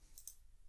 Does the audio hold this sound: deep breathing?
no